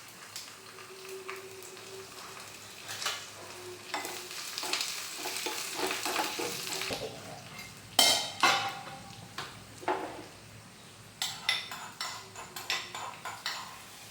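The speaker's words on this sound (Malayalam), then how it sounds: "ഇനി ഇതിലേക്ക് 2 വറ്റൽമുളക് നടുവേ മുറിച്ചതും പിന്നെ 2 തണ്ട് കറിവേപ്പിലയും കൂടി ഇട്ട് കൊടുത്തിട്ട് ഒന്ന് ഇളക്കി എടുത്തിട്ട്" Dried red chillies and curry leaves sizzling in hot oil in a small pan, with a spoon stirring and scraping against the metal in irregular clanks over a soft steady crackle, close and unaccompanied by speech.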